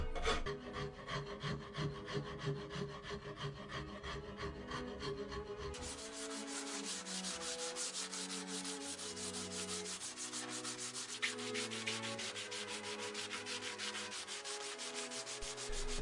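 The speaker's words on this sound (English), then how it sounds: "I use a rasp to shape the handle and I finish it off with some sandpaper" Rasp shaping a wooden axe handle gives rapid rhythmic scraping strokes, then sandpaper takes over with steadier rubbing swipes on the wood. Both are close and unaccompanied, with no voices.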